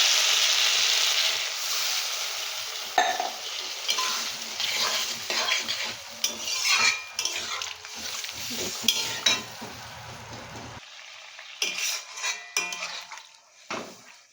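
Fried eggplant in a cooking pan as water is poured in: a loud initial rush of hissing steam fades into intermittent sizzling, stirring scrapes and clinks of a utensil against the pan, ending in near quiet.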